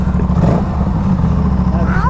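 A motorcycle fitted with a GPR Ghost Inox full exhaust system, DB killer in place, idles and gets a brief rev, its steady low engine rumble running close and loud with voices over it.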